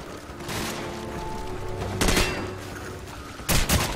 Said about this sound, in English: The weapons sound appropriately devastating.